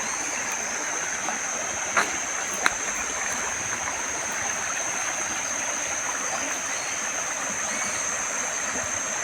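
A clear stream flows through farmland in a constant, even rush of water with a bright hiss, close by and steady throughout, with a couple of faint clicks.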